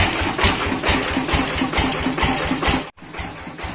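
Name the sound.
old tractor engine running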